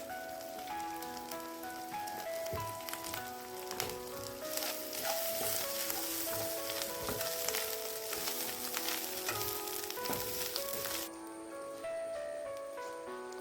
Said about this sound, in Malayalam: കുറച്ച് വെളിച്ചെണ്ണ ഒഴിച്ച് വറുത്തെടുക്കാം.